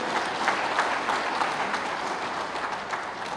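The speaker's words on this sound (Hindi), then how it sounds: "एक बार ताली बजा दो हमारे बूथ अध्यक्षों के लिए भी" Sustained applause from a large political rally crowd in Jharkhand, steady and dense clapping filling the whole stretch without speech.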